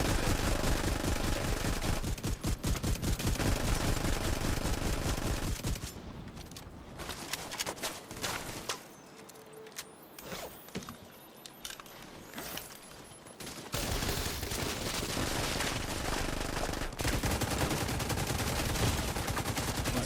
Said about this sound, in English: He's shooting me in the back